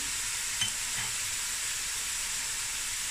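Halved mild chilies go into a pot of three-greens stew, giving a steady, continuous sizzle and hiss with a faint soft plop near the start and no talking.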